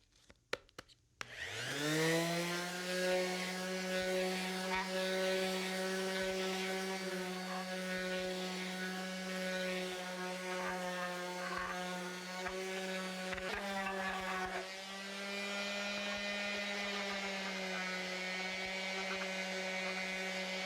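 A power sander fitted with 220 grit sandpaper smooths a rough piece of 2x3 wood, starting up after a second and running as a loud, steady motor whine with a strong hum for the rest of the stretch.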